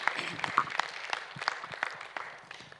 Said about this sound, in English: I think we owe this panel a final round of applause.